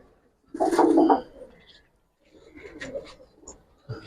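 Giribaz pigeons, including Jabra Pankhi and military silver varieties, coo at a farm loft in a short low burst, then softer scattered calls with faint background voices.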